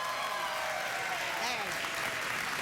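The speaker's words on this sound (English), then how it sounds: "Either clap enthusiastically or not at all." Studio audience of a late-night talk show applauds in a thick, unbroken burst, with whoops and cheers riding over the clapping throughout.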